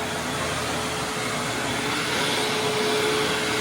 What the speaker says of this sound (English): It's probably going to take more than a vacuum to get this dirt free.